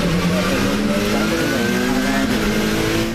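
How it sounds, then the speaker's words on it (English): BMW touring cars accelerate away at a WTCC 2007 restart after a safety car at Brno, Czech Republic, a loud continuous engine roar with pitch climbing through the gears as several cars pass together. "the restart is underway with Portero, the poleman, away cleanly, with 3 other BMWs following on"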